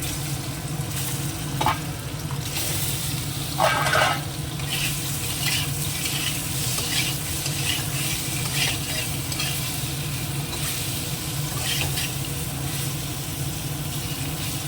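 Paneer sprinkled with salt fries in a pan, a loud, steady, close sizzle with occasional scraping stirs over a constant low hum, running unbroken with no speech.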